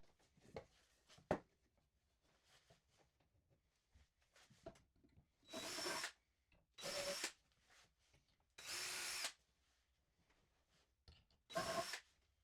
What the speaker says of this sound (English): pre-drill that, making sure not to go through the top, and screw them in with shorter screws.